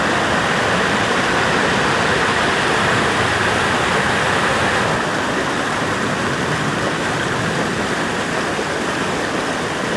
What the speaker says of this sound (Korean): 중원 폭포 전경입니다.